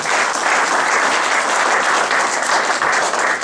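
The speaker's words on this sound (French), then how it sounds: "On acclame très fort le Seigneur." A church congregation claps loudly and steadily at a faith seminar, dense sustained applause filling the space for several seconds with no pauses.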